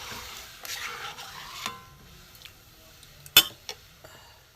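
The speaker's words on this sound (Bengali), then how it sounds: "এতে আমি দেব জিরে গুঁড়ো, ধনে গুঁড়ো দিয়ে এটা নেড়ে দেবো" Green mango pieces being stirred with cumin and coriander powder in a pan, soft scraping and a few sharp clinks of utensil against metal, faint and sparse in a quiet kitchen.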